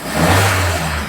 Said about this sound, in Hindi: मैं 2000 आरपीएम पे इसको रेव करता हूँ।